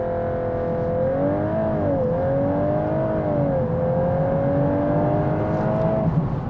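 A 2021 VW Golf R MK8 accelerates hard in a timed sprint, its engine note rising and dipping through gear changes as a steady whine climbs, heard from inside the car without talk.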